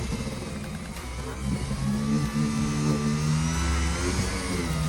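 A power sander with 180 grit sandpaper works a coffee table top, a steady close motor whine with a hum that rises in pitch as the speed is turned up partway through, with no speech.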